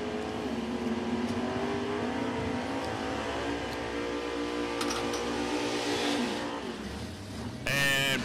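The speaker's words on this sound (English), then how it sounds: "Burnouts for distance for Randy Queen in the right-hand side of the racetrack" A Chevrolet Malibu drag car does a long burnout at a drag racetrack, its engine droning loud and steady with wavering harmonics before a sharp, raspy rise in pitch near the end.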